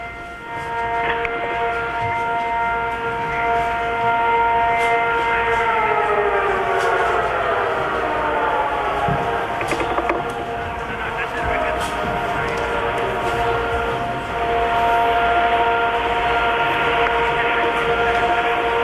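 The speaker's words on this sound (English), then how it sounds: "Air raid sirens in Riyadh, the capital of Saudi Arabia." Loud air raid sirens wail continuously in the distance over Riyadh, Saudi Arabia, during the 1991 Gulf War, their rising and falling tones layered over a constant rumbling background.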